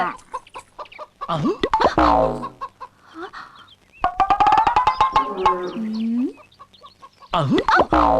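Several chickens and chicks cluck and squawk close by in bursts, with sharp calls overlapping and short pauses between flurries.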